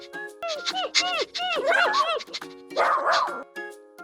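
A cartoon dog in a children's counting animation gives a run of quick, squeaky yips and barks in bright bursts, close and lively, with a short gap before a final rougher yap.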